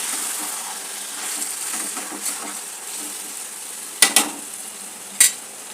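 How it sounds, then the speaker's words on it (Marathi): Chicken biryani ingredients fry in ghee with a constant soft sizzle, broken by a few sharp metallic clinks of a spoon against the pan near the end, with no talk. "आता याला आपल्याला चांगलं 10 मिनटं तरी आपल्याला चांगल्या तुपामध्ये परतून घ्यायचं आहे."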